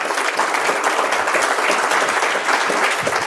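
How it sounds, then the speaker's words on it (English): Audience at an offensive security consulting talk breaks into sustained applause, dense and steady clapping close and loud for the whole stretch without speech. "you managed to clap at the right time"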